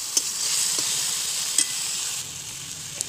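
Bottle gourd greens fry in a pan with a steady, loud sizzle and occasional sharp scrapes of a stirring spatula.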